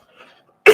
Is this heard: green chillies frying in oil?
no